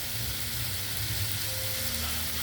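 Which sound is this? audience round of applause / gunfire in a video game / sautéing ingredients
sautéing ingredients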